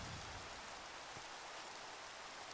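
Rain falls in Minecraft Chaoskraft 2 near a tower, a steady soft hiss of drops with no breaks and no voices.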